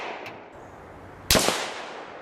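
One sharp, loud gunshot cracks at the range among a group of shooters, followed by a decaying echo, with a faint click just before.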